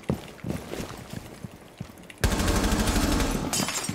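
Automatic rifle fire in Rainbow Six Siege, starting with scattered shots and then a loud sustained burst of rapid fire that lasts over a second, heard alone.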